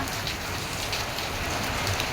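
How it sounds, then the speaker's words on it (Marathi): Steady heavy monsoon rain in Mumbai pattering densely on a surface, a continuous close hiss with no pauses. "मुंबईला कसलं डेंजर पाऊस आला"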